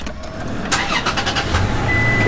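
A Toyota Tacoma truck engine cranks and starts up close, a few sharp cranking bursts settling into a steady idle.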